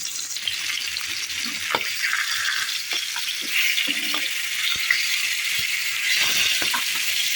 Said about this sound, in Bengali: এই যে কিছু মাছ হলুদ লবণ মরিচে গুঁড়া দিয়ে ভেজে নিচ্ছে